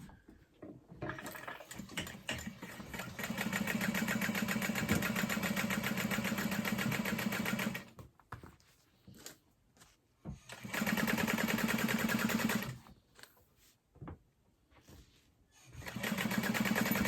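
A sewing machine bastes the top zipper of a fabric backpack in place with a narrow seam allowance, running in two long steady bursts of whirring stitches with short pauses and fiddly handling between them.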